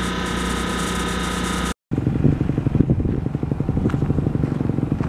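A new dirt bike's engine runs loud and close, a steady droning hum that cuts out for a split second, then returns as a rougher, throbbing rumble with faint clatter.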